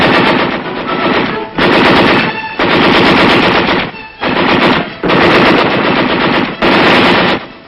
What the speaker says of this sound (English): The enemy fire is returned by our forces with devastating effect.